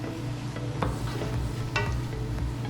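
Noodles tossed and stirred in a hot pan, with steady close-up sizzling and a couple of sharper scrapes of the utensil against the pan over a low background hum.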